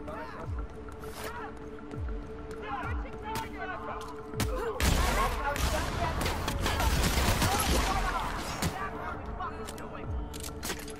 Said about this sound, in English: Accidentally shot that guy right in the face.